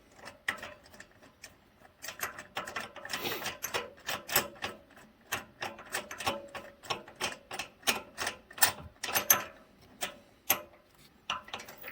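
Spark plugs being threaded into a Polaris KRX 1000 with a 14 mm socket and extension, giving a quiet, rapid series of light ratcheting ticks and clicks in uneven bursts, close and alone.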